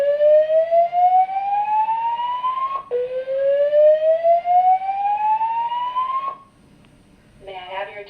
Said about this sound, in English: I'll just put a clip in now so you can hear the exact alarm that we heard